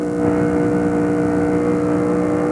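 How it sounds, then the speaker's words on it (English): NASCAR Busch Grand National race cars at Atlanta Motor Speedway in 2001 roar steadily past as one loud, continuous engine wall with layered droning tones and no break. "get the full sound of these Busch Grand National racers"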